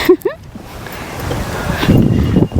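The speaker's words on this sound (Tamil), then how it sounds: "இப்போ தான் கொஞ்சமாச்சு காற்றடிக்குது" Wind gusts past a dry, grassy pond in Sri Lanka, a broad rushing buffet on the microphone while people talk nearby.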